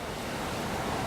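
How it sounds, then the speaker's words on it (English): Frigid blizzard wind roars outdoors in winter, a dense, steady rush of gusting air buffeting the microphone, with no voices. "Frigid wind out here."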